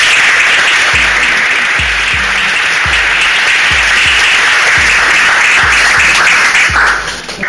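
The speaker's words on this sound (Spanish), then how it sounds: "quisiera pedir al público también que un aplauso" A loud, steady round of audience applause follows a talk on play and architecture, dense clapping sustained for several seconds with faint regular low thumps beneath, tapering off at the very end.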